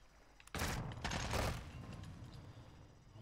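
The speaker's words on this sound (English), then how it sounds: "pistols can be shot underwater" Pistol fired underwater in a video game: a quick cluster of muffled, dull shots in rapid succession, followed by a low rumbling wash that slowly fades.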